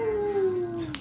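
A time ring howls in the video game Killer7: one loud, drawn-out, wavering howl that slides slowly downward in pitch, alone without talk.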